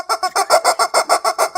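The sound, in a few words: voice imitating a rubber chicken squawk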